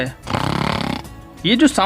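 A voice imitates snoring with a rapid run of rasping, throaty pulses, then breaks off into ordinary talking.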